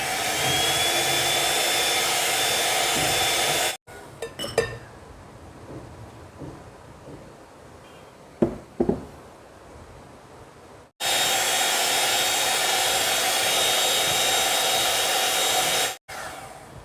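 An electric hand beater whirs steadily as it mixes cake batter with sugar for a marble cake, a loud continuous motor drone that cuts off mid-clip for several seconds of quiet clatter before starting again.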